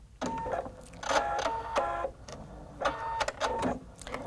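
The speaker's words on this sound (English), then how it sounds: "So I'm just going to press the start stop button." A Husqvarna Viking embroidery machine running a felting embroidery set, its needles punching in quick mechanical bursts with whirring motor pulses and short pauses, close and fairly loud with no talking.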